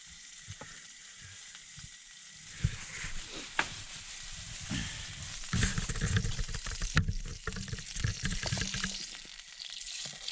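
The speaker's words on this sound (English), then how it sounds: "We forgot to get the spoon, so that's why we are using the stick as a stirrer to cook the food." Food frying in a pot on a camp trek, stirred with a stick instead of a spoon, steady sizzling with scraping and clattering stir strokes, a few sharp knocks and a louder burst of stirring midway.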